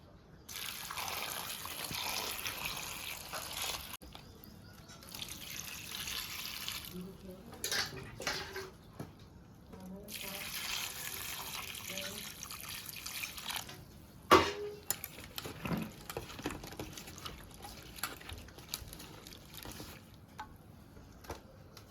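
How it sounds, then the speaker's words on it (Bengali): Cut pumpkin, potato and drumstick pieces rinsed under a running kitchen tap, a steady gush of water with splashing and clatter as the vegetables are handled, fairly quiet and close. "এবার এগুলো একটু আমি ধুয়ে নিচ্ছি।"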